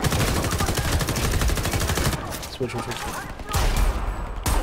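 Pistol gunfire in the video game Homefront: The Revolution, rapid loud shots in quick succession up close, briefly easing before resuming, with someone speaking a word over it.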